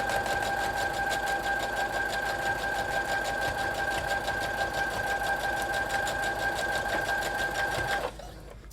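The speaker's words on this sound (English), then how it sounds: "And then I sew all the way across to the other end." A sewing machine runs steadily, stitching elastic across a lace fashion mask: a close, even mechanical whir with rapid needle ticking that continues for about eight seconds, then stops abruptly, leaving quiet room tone.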